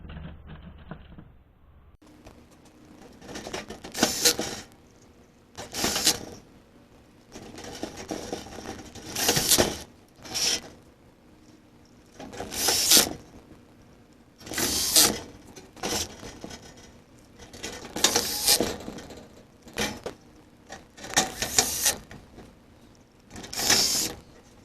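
Screws being driven into the sheet-metal panels of a Case IH 7250 tin bench, with repeated bursts of a power driver whirring at a steady rhythm, short quiet gaps between each screw.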